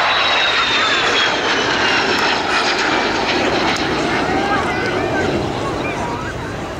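A vintage Vampire jet roars past at a flying display, its engine a loud continuous rushing whine as it passes close and then slowly fades, with wind buffeting and a commentator talking over it.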